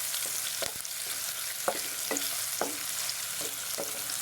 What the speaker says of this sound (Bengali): ভালো করে নেড়েচেড়ে পেঁয়াজ কুচিগুলোকে মিশিয়ে নিচ্ছি।